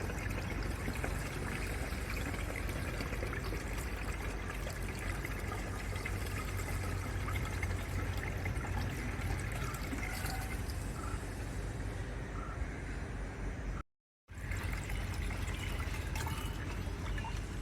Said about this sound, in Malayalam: നേരെ ഈ പമ്പിൽ ഒഴിച്ചിട്ട് സ്പ്രേ ചെയ്ത് കൊടുക്കാം